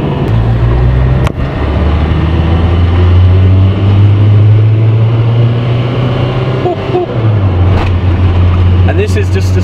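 A 1989 VW MK1 Caddy with a standard old diesel engine drones steadily from inside while driving, a loud low hum that drops briefly in pitch partway through as if shifting gear, with faint voices in the cabin.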